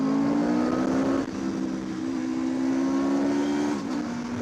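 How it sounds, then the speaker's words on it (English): An Aprilia RSV4 Factory 1100 motorcycle engine drones with a steady tonal whine, the pitch dipping briefly then holding, loud and close, in Malibu. "That Aprilia sound there's nothing like that sound."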